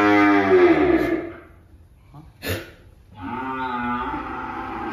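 Cattle at a livestock sale give long, drawn-out moos, one loud call followed after a pause by another, close by and clear, with a brief sharp noise between them.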